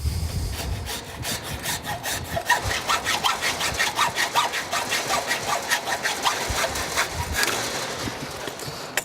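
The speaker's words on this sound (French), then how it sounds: "Je vais couper ce qui dépasse avec une bonne scie à métaux." A hacksaw cutting through the excess length of a metal gear rack on a sliding gate, with rapid, steady back-and-forth rasping strokes up close that continue without a break.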